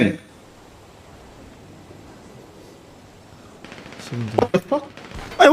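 Gunfire in a GTA V roleplay game arrives after a long quiet lull as a cluster of sharp, loud bursts near the end, mixed with raised voices.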